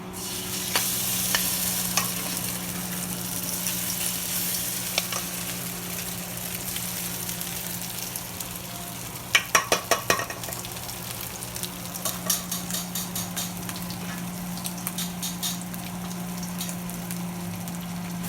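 Marinated beef stir-frying in a pan for an American Chinese beef and broccoli dish, a steady close sizzle with scraping stirs and a burst of sharp crackles partway through; no talking.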